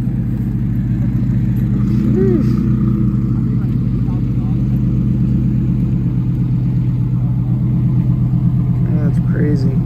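Lamborghini Huracan STO sports car engine rumbling steadily at a street racing takeover in Florida, loud and continuous amid crowd chatter and other idling cars.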